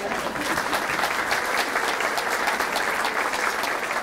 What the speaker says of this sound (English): you can clap if you would like to